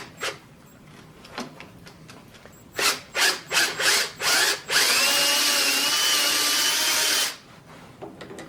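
A power drill widens holes in a wooden woodturning tool handle, first in several short, sharp bursts, then in one sustained loud grinding run of about two and a half seconds before cutting off.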